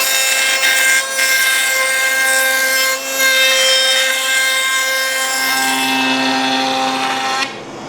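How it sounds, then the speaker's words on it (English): A table saw blade spins with a sustained whining hum as it cuts through a piece of wood molding, loud and close, the tone shifting slightly as the cut finishes and the blade winds down. "do my operations on the table saw, then trim those two pieces of molding off"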